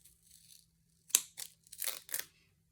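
Paper frame cut in half with scissors for a scrapbooking Christmas card: a few crisp, close snips and crinkly cutting bursts separated by short pauses, quiet overall.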